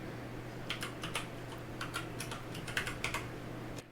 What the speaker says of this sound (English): Type that in and press the enter key again.